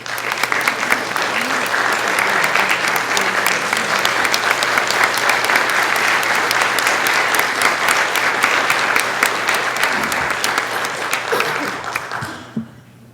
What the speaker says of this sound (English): I took a quick video of you applauding for her